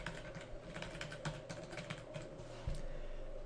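Quick, uneven keystrokes tap on a computer keyboard at close range while a WordPress login is typed in, ending with a firmer key press.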